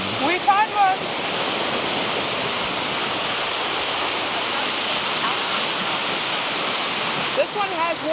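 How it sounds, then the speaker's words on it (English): Everton waterfall in the Hillcrest area, a strong waterfall carrying a lot of water, roars as a loud, steady rush close by. A voice can be heard briefly near the start and again near the end. "This is the Everton waterfall up in the Hillcrest area."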